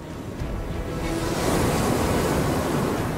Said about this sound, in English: the Mayflower encounters a ferocious storm in the North Sea